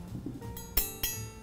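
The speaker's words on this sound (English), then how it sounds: "That's the sound of silver." Silver spoons and knives give a couple of soft clinks, then two bright metallic strikes ring out and decay, quiet and close with no speech.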